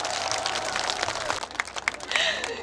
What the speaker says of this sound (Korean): 더큰 박수로 맞이해주세요.